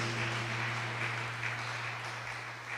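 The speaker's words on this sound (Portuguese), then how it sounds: "Vamos aplaudir o Senhor." A church congregation applauds during a service, a steady wash of clapping over a low organ-like hum that tapers off toward the end.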